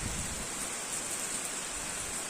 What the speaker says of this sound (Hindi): बहुत तेज वाली बारिश आ गई एकदम।